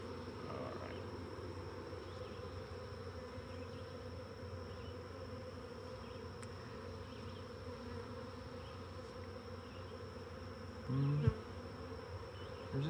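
Honey bees from a Caucasian-queen colony buzz steadily around an open apiary hive during inspection, a dense, continuous drone close by, with a brief louder rustle or knock near the end.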